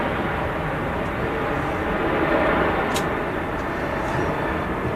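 A Ryanair passenger jet at Manchester Airport, a steady, broad engine roar that stays even throughout, heard from a distance with no voices.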